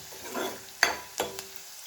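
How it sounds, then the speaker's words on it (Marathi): Cumin seeds roasting in a pan, a soft sizzle with a couple of sharp scraping stirs, close and alone. "जिरा पण चांगला भाजून घेऊया."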